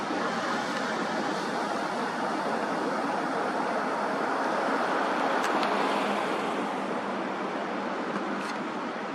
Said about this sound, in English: So here we've got a vehicle coming out.